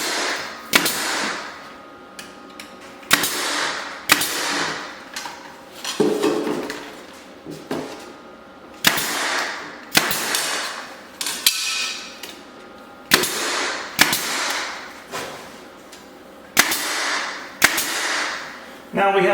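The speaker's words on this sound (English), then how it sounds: "Finish this one off, get it nailed down through here." Thin, slightly warped black walnut trim boards being nailed down on a small barndominium, with about a dozen sharp, loud hammer strikes arriving in uneven bursts and a metallic ring after several blows.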